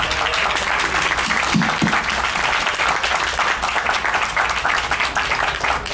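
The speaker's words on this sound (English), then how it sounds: "Can we give them a big round of applause, please?" Sustained audience applause at a symposium panel on treating children with fatal diseases, a thick continuous wash of clapping from a crowd, steady in level for the whole stretch.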